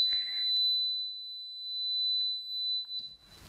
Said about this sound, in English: a sharp metallic buzz at 4000 Hz, the exact peak of human hearing sensitivity